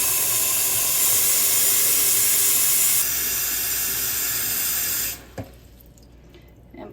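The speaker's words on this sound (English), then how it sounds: "We're gonna fill this pretty much 3/4 of the way full with water." Steady rushing tap water pours into a pot for about five seconds, then cuts off abruptly, leaving a quiet room with a small clink.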